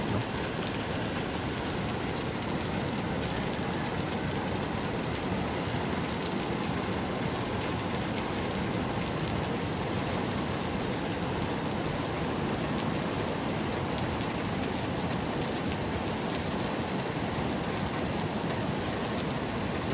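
Steady, heavy tropical storm rain pours down continuously, a dense hiss of drops hitting surfaces with no pauses or voices.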